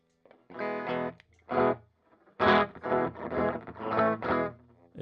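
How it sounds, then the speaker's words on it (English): Electric guitar through a TC Electronic Alter Ego V2 set to a Watkins Copycat slapback echo emulation, darker tone with mild distortion; short strummed phrases with a quick single repeat trailing each, played alone with no talking. "It's a again sort of a darker tone and a little bit of distortion and then slapback."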